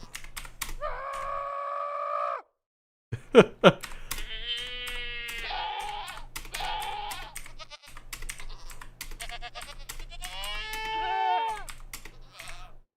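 Screaming goat ambient cries in Minecraft, several separate shrill, wavering bleats with short gaps, close and fairly loud, accompanied by keyboard typing clicks.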